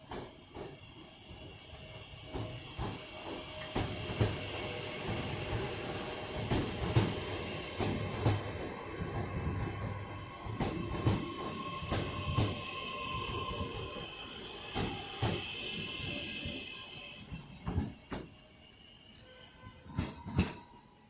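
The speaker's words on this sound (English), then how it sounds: "So the next train to be departing is the 12:36 Northern service to Crewe via Manchester Airport." A Northern class 323 electric train pulling out of Manchester Piccadilly, a steady mechanical hum and rumble with repeated clanks and knocks as it moves off, heard amid station ambience and occasional faint voices.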